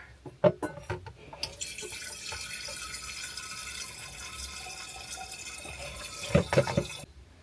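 A tap runs inside a camper van, a steady hiss of flowing water lasting several seconds, framed by a few clattering knocks and drips at the start and end, with no talking.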